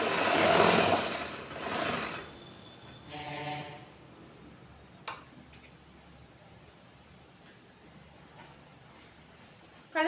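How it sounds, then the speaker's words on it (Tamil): A sewing machine stitches a curved back neckline on a chudidar top, its mechanical whirr running loud in two bursts near the start, then a shorter run, followed by scattered faint clicks and handling noise. "கழுத்துக்கு ஏற்ற மாதிரி இப்படியே வளைவாக தைக்கிறோம்."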